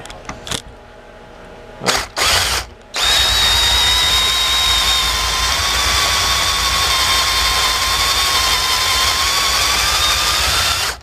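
A few sharp knocks, then a power drill starts up and bores a hole through an exterior door for a lockset, running continuously at high speed, loud and close, with a steady whine.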